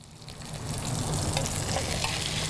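Beef, cooked with its fat left on, is held on its side in a pan so the ends sear. It gives a steady, close frying sizzle that swells slightly and then holds even, with no talking.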